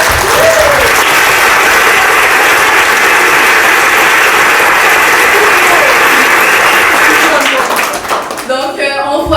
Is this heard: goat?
no